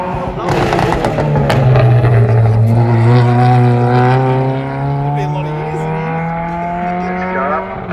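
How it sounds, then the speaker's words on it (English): A Ford Capri Mark 1 with a 2-litre Pinto engine revs hard at a motor sprint event, a loud rising and steady engine note passing close by, with a brief noisy burst at the start and the tone fading slightly toward the end. "There's a Mark 1 Capri, this one a 2-litre, not the 3-litre V6 that most aggressive Capris are."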